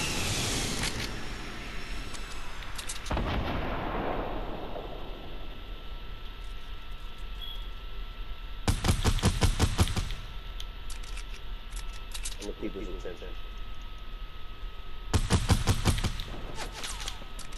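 Sniper rifle shots in the Fortnite video game ring out as sharp, loud bursts at spaced intervals, four cracks separated by stretches of quieter game ambience, with no talking.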